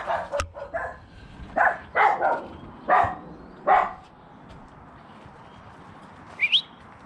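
A few sharp dog barks in a short cluster, somewhat distant outdoors in a back garden, then quiet with a brief high chirp near the end.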